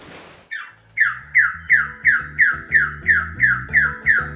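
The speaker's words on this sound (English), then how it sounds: "This is a Wilson bird of paradise, and check out his colours. This is a male." A male Wilson's bird of paradise gives a loud series of about ten sharp, evenly spaced squawking calls, each a bright descending note, over a steady high insect drone in tropical forest.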